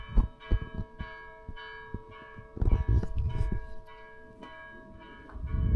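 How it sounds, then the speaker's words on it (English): A church bell rings in a village in Galicia, Spain, sounding as a few resonant metallic strikes with lingering tones, mixed with handling noise and rustle; no speech. "Hear the bell?"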